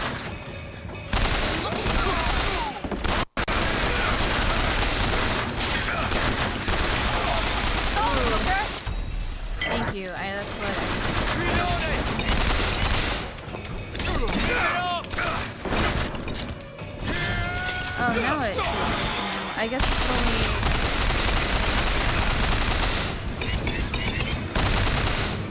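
Dense, sustained gunfire from Bioshock Infinite: rapid bursts and volleys of in-game shots, close and loud, with a brief dropout near the start and a busy mix of combat effects throughout.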